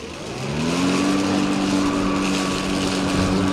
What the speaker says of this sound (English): I'm gonna go ahead and show you guys what this lawnmower can do